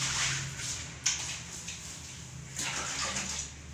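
Clean water splashes and washes across a hard floor in soft bursts during rinsing after scrubbing, with a sharp slap partway through; faint and fairly close, with no talking.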